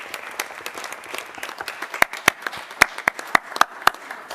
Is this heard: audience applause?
yes